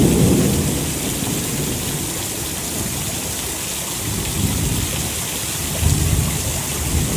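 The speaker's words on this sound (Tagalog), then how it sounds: "Lakas ng ulan." Heavy rain pours down steadily during a downpour at the start of the rainy season, a dense continuous roar close by with low rumbles of thunder underneath and no one speaking.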